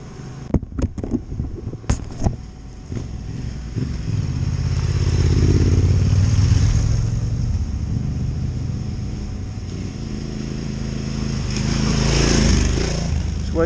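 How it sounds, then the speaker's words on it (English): A CRF rally bike motorcycle rides a sunny trail in Wales, its engine building from a few sharp clattering knocks into a steady droning rumble that swells as it passes close and then fades a little. "Wait for Matt on the CRF rally bike."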